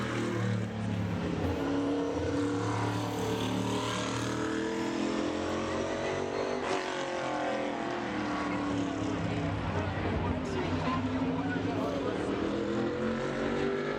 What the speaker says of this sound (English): Ford of Corey Lovett, 41 car of Corey Lovett.